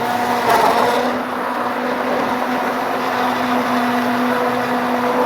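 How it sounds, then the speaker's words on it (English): Immersion blender whirring steadily in a container of coconut oil mayonnaise as it emulsifies, a continuous close motor hum with a sustained buzzing tone throughout, no talking. "here's an immersion blender. You just stick in there, get it all the way to the bottom, and then turn it on."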